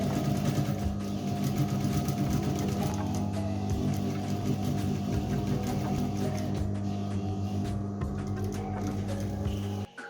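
A sewing machine runs continuously, stitching a line along the outside of a pants pocket, its motor whirring steadily up close with a rapid needle rhythm before stopping abruptly at the end.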